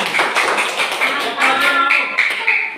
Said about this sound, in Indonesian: itu tepuk tangan.